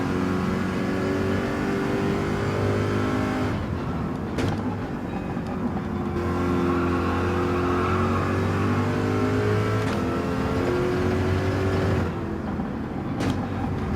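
Yellow Corvette race car engine roaring steadily at high revs on track, with rising and falling pitch through gear changes and corners, loud and continuous throughout.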